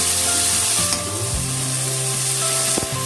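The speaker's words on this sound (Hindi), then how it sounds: "मसालों के साथ आलू और हमने जो कच्चे प्याज डाले हैं सब कुछ अच्छे से भुन जाएंगे" Potatoes, raw onions and spices roasting in a pan, a steady close sizzle and crackle with a few scraping stirs, alone with no talk.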